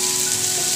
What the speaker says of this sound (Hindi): तेल हमारा बिल्कुल अच्छी तरीका से गर्म हो चुका है। इसमें हम प्याज डालेंगे।